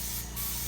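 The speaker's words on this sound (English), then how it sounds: "Use the spray gun." A spray gun in use at the main gate of a house under construction gives a steady, close, even hiss with no break for the whole brief moment.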